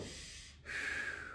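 Heavy breathing during a plank held in a home workout: a short, sharp, noisy intake or snort, then a brief pause, then a longer forceful breath, close and fairly quiet.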